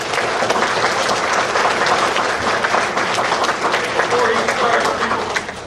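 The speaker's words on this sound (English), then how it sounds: "I'd like everybody to give a round of applause for Mr. Suriano" A middle school assembly audience applauds as a guest speaker is introduced, dense sustained clapping from a large crowd filling the room at full volume, with murmured voices underneath.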